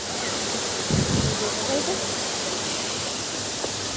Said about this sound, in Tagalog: Wow, ang lakas ng tubig.